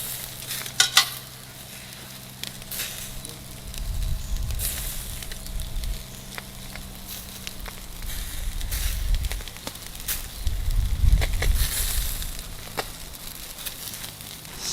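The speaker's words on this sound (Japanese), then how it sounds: "これ聞こえますか、この油がジュージューと下に落ちる音。" Oil sizzles and drips from fish and shellfish grilling: sailfin poacher, halibut, thornyhead and clams. A steady close crackling hiss swells in a few louder bursts, with no talking.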